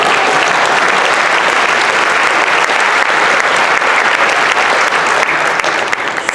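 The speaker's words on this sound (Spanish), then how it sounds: "un aplauso para ellos" A theater audience gives loud, sustained applause, a dense wash of clapping that stays even from start to finish with no talk over it.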